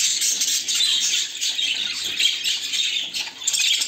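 Several birds squawk and chatter continuously at close range after bathing in hot weather, with restless rustling and fluttering mixed in.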